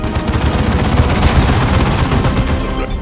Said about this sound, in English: The traitors are laying down a barrage to soften us up.